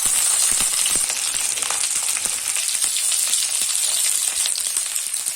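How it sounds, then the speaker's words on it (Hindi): Broccoli sizzles steadily in hot mustard oil in a pan, a dense continuous crackle with scattered sharp pops, close and fairly loud throughout with no voices. "ब्रोकली को हम फ्राई करके निकाल लेंगे।"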